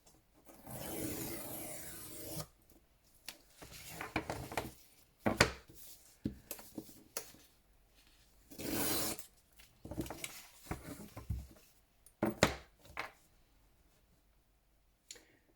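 Cutting through the inside cover of a vintage photo album along its green border, heard as close, intermittent rasping strokes in short bursts separated by quiet pauses.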